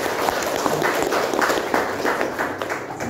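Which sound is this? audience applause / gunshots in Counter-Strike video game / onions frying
audience applause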